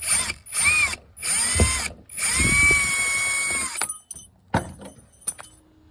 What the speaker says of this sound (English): next thing is going to be removing that bracket with those two screws